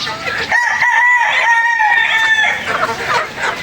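Backyard chickens and young roosters about three months old crow and cluck close by, with one rooster's strained crow rising over the steady clucking of the flock.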